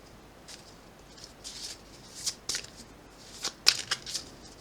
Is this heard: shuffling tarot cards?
yes